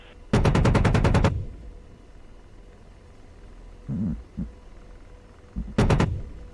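Rapid bursts of cannon fire come from an Apache helicopter in a combat video game, one long rattling volley and a later short one, with faint thuds between.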